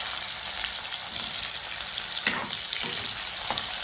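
Onions and mustard seeds frying in hot oil for a spicy Jaffna-style chicken curry, giving a steady close sizzle with a few soft stirring clicks and no talk.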